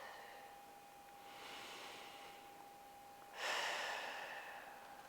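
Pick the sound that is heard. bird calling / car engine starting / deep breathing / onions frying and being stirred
deep breathing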